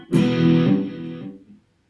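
A single distorted electric guitar chord rings out through an effects unit, loud and close, then fades within about a second and a half, with no talking over it.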